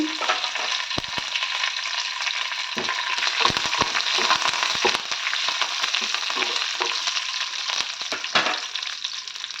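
A tempering of fresh grated coconut and chana dal with dried red chillies, curry leaves and coriander sizzles steadily in hot oil, with occasional sharp stirring clicks and scrapes against the pan close by.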